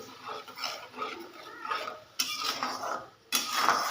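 A spoon scrapes and clinks against a cooking pot as spice paste is stirred, giving uneven metallic rattles and scrapes in bursts, up close with no talking.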